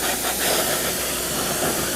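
A steady, broadband hiss of water spray rinsing a dirty car during mobile detailing, continuous and close with no breaks or voices.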